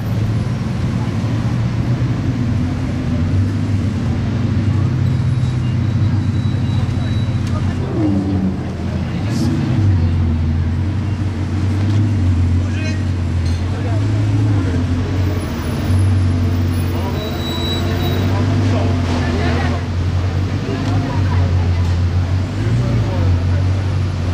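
A Bugatti Chiron supercar moves through busy Monaco traffic. Its low engine rumble is steady and fairly close, with wind buffeting and street noise around it and occasional voices nearby.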